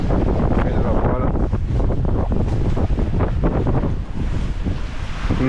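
Steady wind roars across the microphone aboard a sailboat in a 12-13 knot breeze with small gusts, on a passage from Bandol to Port Leucate, with water rushing along the hull throughout.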